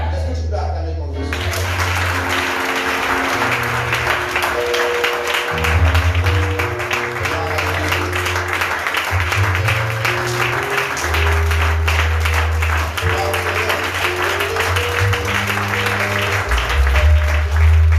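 A church congregation applauds and cheers in a long, steady wash of clapping, loud and sustained, with shouting voices and a low musical drone running underneath.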